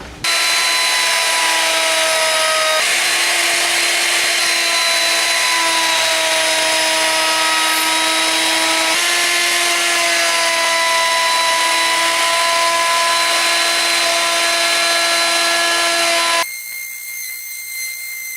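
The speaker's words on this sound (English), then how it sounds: "I'm gonna put a round over on this board." A high-pitched whining router runs steadily and loudly for a long stretch, rounding over the edge of an end grain cutting board, then cuts off, leaving a quieter tonal hum.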